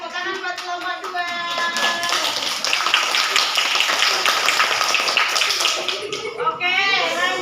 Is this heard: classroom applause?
yes